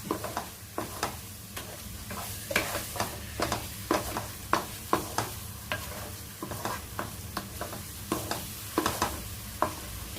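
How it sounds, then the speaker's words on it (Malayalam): Thick homemade lehyam being stirred in a pan, with a steady run of sharp scraping and stirring strokes about twice a second, close and clear over a low bubbling sizzle, no voices. "നമുക്ക് ഏതാണ്ട് ഒരു 2 മിനിറ്റും കൂടെ ഒന്ന് ഇളക്കി നോക്കാം."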